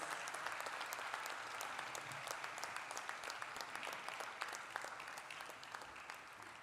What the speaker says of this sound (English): Ladies and gentlemen, please give a big round of applause for all our gold medalists.